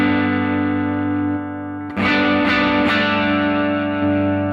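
Overdriven electric guitar chords through a Line 6 Helix amp modeler ring out thick and distorted, with a few sharp strums cutting through the sustained buzz.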